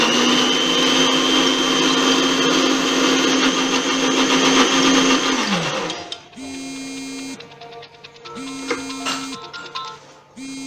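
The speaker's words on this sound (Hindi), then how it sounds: "अब हम इसको ब्लेंड करना शुरू करते हैं।" An electric blender runs with its lidded jar full of mayonnaise ingredients, a loud steady motor whine for about six seconds before it winds down, followed by a few short, quieter mechanical hums.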